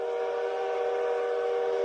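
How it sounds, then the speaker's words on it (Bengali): A steady, continuous train whistle held at an even level throughout, loud and unbroken, with no voices. "দূর থেকে হুইসেলের শব্দ আসে একটা ট্রেন আসে ধোঁয়া উড়িয়ে থেমে যায় নদীর ধারে"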